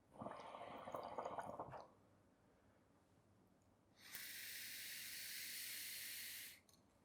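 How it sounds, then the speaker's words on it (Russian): Hookah purge valve blowing smoke out of the glass base: a bubbling, gurgling burst, then after a pause a steady airy hiss lasting a couple of seconds, close and fairly quiet. "За одну продувку можно выдуть весь дым из колбы"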